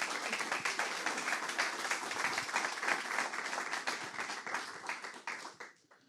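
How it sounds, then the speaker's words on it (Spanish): Audience at an academic colloquium on territorial inequality applauding after a talk, a lively burst of many hands clapping that carries on steadily, then thins out and fades at the end. "Un aplauso fuerte para..."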